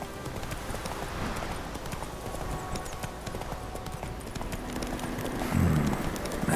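Horse hooves clip-clop steadily in The Witcher 3 video game, a continuous moderate trotting rhythm over ambient game sound, without talk.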